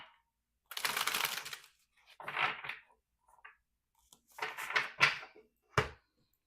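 Tarot cards are shuffled close up in several short riffling bursts separated by brief silences.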